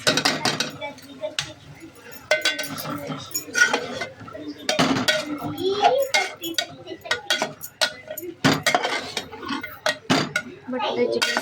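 Peas and potatoes tipped into a cooking pot, with clinks and clatters of utensils against the metal at an irregular pace, close by and mixed with faint background voices.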